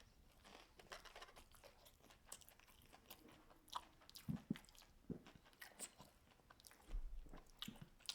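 Close, quiet biting and chewing of a plain Dave's Hot Chicken fried chicken sandwich, with soft crunches and wet squishy mouth sounds repeating over several seconds and no talking.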